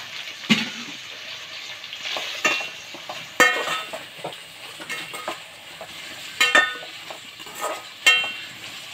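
Green chillies sautéing in a pan with tomatoes for mutton biryani, giving a low sizzle broken by several sharp scrapes and clinks of a stirring spoon at irregular intervals, close by with no voices.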